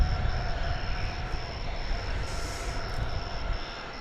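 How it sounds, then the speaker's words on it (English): An American Airlines jet arriving at DFW Airport makes a steady, moderately loud engine roar that holds evenly throughout, with no talk. "Just about to arrive is American Flight 2954 from Minneapolis, St. Paul."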